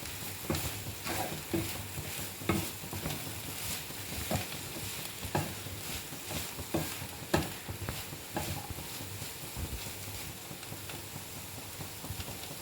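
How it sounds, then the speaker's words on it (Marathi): Phodshichi bhaji, a wild monsoon vegetable with sugar and salt added, is stirred in a pan, giving soft rhythmic scraping strokes over a low, continuous sizzle. "आणि ही व्यवस्थित ढवळून घेते."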